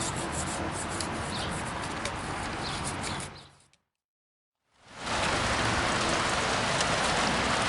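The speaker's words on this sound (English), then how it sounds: "I don't know where that black cloud came from, but it sure did pour down some rain." Steady heavy rain hisses loudly, cutting to brief silence midway before the downpour resumes just as strong.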